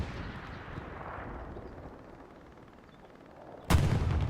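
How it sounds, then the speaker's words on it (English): Bombing run explosions in the World War II shooter Hell Let Loose, a distant rumbling boom that fades, then a sudden loud close blast near the end with a heavy lingering roar. "Bombing run coming in."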